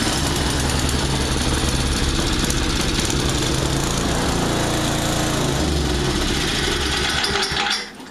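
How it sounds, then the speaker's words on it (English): A Tecumseh snow blower engine runs loud and close with a steady, rough buzzing roar, then falters and dies away in the last moment as it stalls. "and we'll friggin' fire this bastard up."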